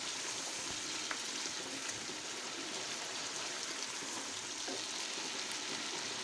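Shinwari chicken karahi cooking in a pan makes a steady, dense sizzle and bubbling hiss throughout, close and even in loudness, with no voices.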